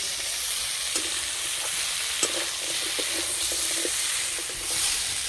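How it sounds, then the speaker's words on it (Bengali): Mixed vegetables fry in a small amount of oil in a pan, giving a steady bright sizzle with occasional stirring clicks and scrapes, close and continuous, with no talking. "আজকে রান্নাটা যেহেতু অল্প তেলে করছি, সেই জন্য সবজিগুলো ভালো করে ভেজে নিতে হবে।"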